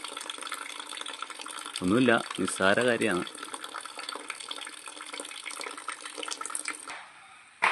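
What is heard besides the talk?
water draining out of a can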